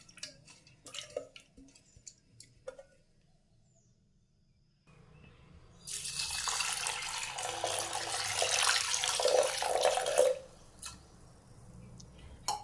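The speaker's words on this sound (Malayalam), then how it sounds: "വെള്ളം ഒഴിച്ചിട്ടുണ്ട്." Water runs steadily from a tap into a pressure cooker holding lentils for several seconds, a broad hissing splash that builds and then cuts off, with faint kitchen clatter before it.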